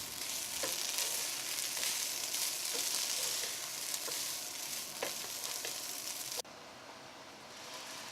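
A steady bright sizzle comes from a pot of hilsa pulao as steamed fish gravy is stirred in, with faint scraping strokes and a slight drop in level near the end.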